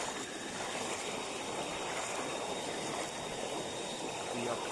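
River water rushing steadily during a river crossing, a constant close hiss and churn of flowing current filling the scene.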